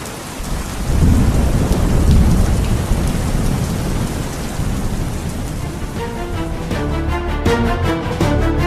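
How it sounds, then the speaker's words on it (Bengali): Heavy rain pours steadily with deep rolling thunder, a loud rumble swelling in the first seconds before the downpour carries on alone. "এদিকে বজ্রপাত সহ বৃষ্টির গতিবেগ আরও বাড়তে লাগলো"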